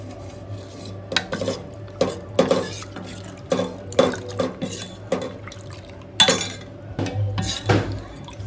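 Food being mixed by hand in a bowl, with a series of soft squelching, rubbing pulses and light clicks against the bowl, close and fairly quiet, with no talking.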